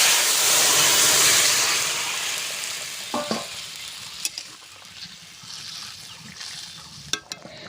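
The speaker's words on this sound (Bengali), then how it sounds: "তেল কড়াতে দিয়ে দিয়েছি। ফোড়নে দেব 5 ফোড়ন, তেজপাতা" Whole spices and bay leaf hit hot oil in a wok for tempering, a loud hissing burst that gradually fades to a softer sizzle, with a few clinks and stirs near the end.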